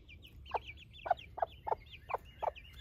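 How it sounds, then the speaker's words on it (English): A Silver Laced Wyandotte hen clucking close by in a backyard flock, six or seven short, sharp clucks in an irregular rhythm over faint background chirps, with no talking. "And there's Miss Silver Lace Wyandotte."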